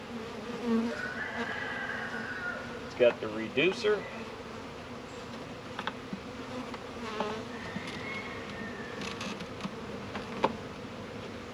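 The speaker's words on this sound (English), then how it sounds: "This way the bees can come and go." A steady drone of honeybees fills the air at a package hive entrance fitted with a reducer, with occasional louder passes of single bees while someone speaks briefly.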